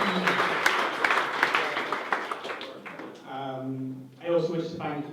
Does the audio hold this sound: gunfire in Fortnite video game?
no